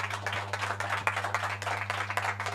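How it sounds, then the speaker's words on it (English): A crowd at a youth, green and digital forum session claps steadily for a speaker, a continuous patter of many hands held over a low steady hum throughout. "Let's clap hands for him."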